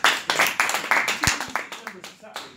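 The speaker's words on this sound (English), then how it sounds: "Give a round of applause, please." A small group at a card magic show claps for a couple of seconds, the sharp individual claps loud and close at first, then thinning out and fading.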